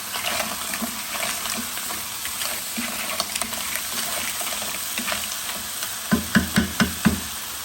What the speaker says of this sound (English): At the same time I add my clams, just to give a little bit of a head start with cooking, I'm going to add a couple of tablespoons of water.